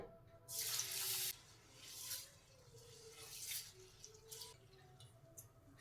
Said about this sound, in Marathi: तीन ते चार वेळा पाण्याने स्वच्छ धुवून घेऊया